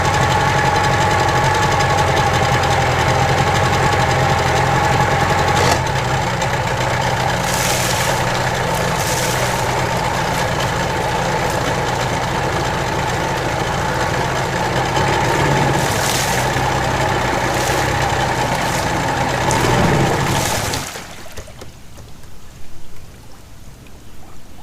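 An engine idles with its cowling fitted, making a loud, steady drone with a slight knocking pulse that runs unbroken for about twenty seconds before cutting off abruptly into near silence.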